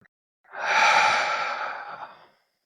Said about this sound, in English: we can take a deep breath in and a long, slow exhale out